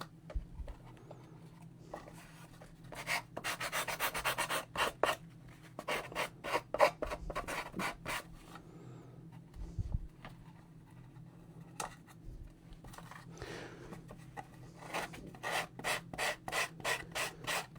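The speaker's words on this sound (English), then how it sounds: "So I'm just going to go around and sand that paper there as well." Close, rhythmic strokes of a spongy sanding block scrape back and forth over paper in quick bursts, pausing now and then over a low background hum.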